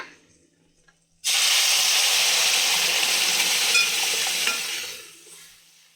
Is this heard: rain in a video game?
no